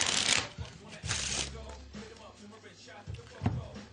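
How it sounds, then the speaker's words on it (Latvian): Playing cards shuffled quickly during a card trick, giving two crisp riffling bursts near the start followed by softer handling noise, with a low voice murmuring underneath. "tikmēr jūs ātri samaisiet kārtas"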